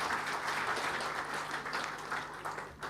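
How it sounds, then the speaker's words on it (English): Sustained audience applause greets the ICP president at the 2024 ICP World Convention in Kenya, a dense, steady wash of many hands clapping that holds at an even level for about three seconds before easing slightly. "Let's give him a round of applause."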